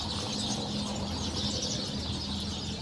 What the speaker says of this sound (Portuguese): Desses pássaros se reunindo aqui toda a tarde